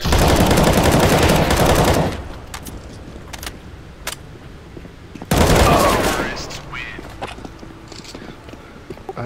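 Pistol fire in the shooter game CS:GO on the de_nuke map, two loud dense bursts of shots separated by a quieter stretch with a few sharp isolated cracks and clicks, close and harsh.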